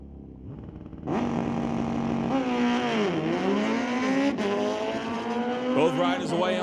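Superbike drag racing motorcycles, including a 1991 GSXR, launch from the line with a sudden roaring surge, engines climbing and shifting through gears at full throttle as they pull away, with a race announcer talking over the din.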